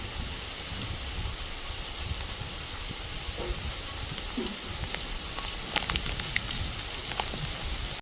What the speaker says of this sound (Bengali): বৃষ্টি চলে আসলো আর সব কিছু ধুয়ে যাচ্ছে। বিশাল জোর বৃষ্টি